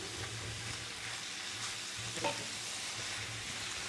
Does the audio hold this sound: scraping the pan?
yes